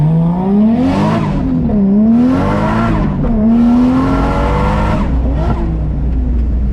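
A turbocharged Toyota Chaser accelerates hard, its engine note climbing and dropping through several quick gear shifts, loud and close throughout.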